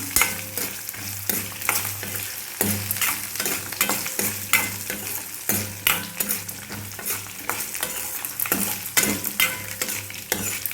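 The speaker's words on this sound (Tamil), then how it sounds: "இப்போ தேங்காய் போட்டுக்கலாம் கட் பண்ணி வச்ச பீசஸ் அதையுமே கொஞ்சம் வதக்கிக்கலாம்" Cut coconut pieces sautéing in a pan for a pumpkin seed chutney, with steady sizzling and repeated rhythmic scraping strokes of a spoon stirring them, close and clear with no talk.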